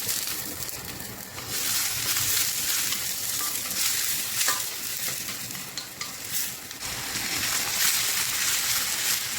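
Red onion sautéing in a pan with lamb meat and liver, a steady close sizzle and frying hiss with stirring scrapes throughout, no voices.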